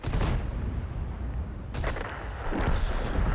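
Heavy, rumbling gunfire from a light tank in World of Tanks aimed at a Grille, heard as low booming bursts under a dense battle din, with a sharper crack near the middle and another toward the end.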